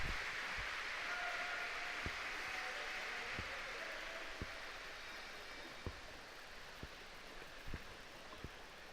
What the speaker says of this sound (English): So you can hear the crowd there